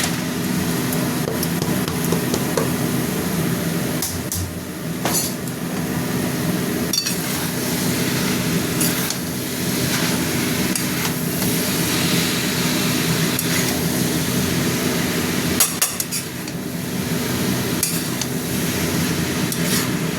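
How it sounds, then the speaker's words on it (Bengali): Shredded cabbage is tossed into a pan of frying spice paste with oil and stirred, giving continuous sizzling with repeated metal spatula scrapes and clinks against the pan throughout. "এবার বাঁধাকপিটা দেবো"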